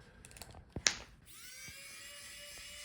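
Screws come out of a Dell Precision 5770 laptop during a teardown: a couple of sharp clicks, then a steady high-pitched motor whir close by, with no talking.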